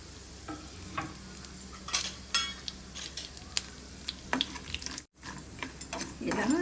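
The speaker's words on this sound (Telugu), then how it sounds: "నెయ్యి వేసి డ్రై ఫ్రూట్స్ని వేయించుకోవాలి" Dry fruits, cashews among them, frying in ghee in a pan for a bread double-ka-meetha dessert: a steady low sizzle runs throughout, broken by intermittent scraping stirs and a brief dropout near the end.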